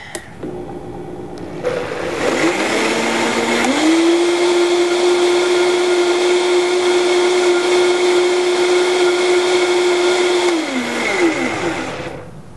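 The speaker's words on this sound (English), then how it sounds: "So I add like a teaspoon of salt and then blend it" A kitchen blender spins up and whirs loudly at a steady high pitch while blending a sauce with salt, then winds down, close and with no talking.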